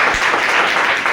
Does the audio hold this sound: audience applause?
yes